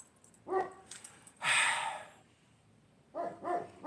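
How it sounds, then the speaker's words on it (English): A dog barks indoors in a few short, sharp bursts separated by quiet gaps, moderately close with a faint room background. "my dog is barking now"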